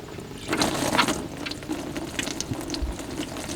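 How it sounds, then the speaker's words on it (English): Water gushes and splashes steadily as it drains out of an abandoned Jeep CJ7's AMC 304 V8 engine, with occasional ratcheting clicks and clanks, no talking. "anytime you got to drain the water out of the engine first"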